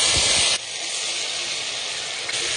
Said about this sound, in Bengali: দুটো তেজপাতা দুটো শুকনো লঙ্কা ফোড়নে দিয়ে দিলাম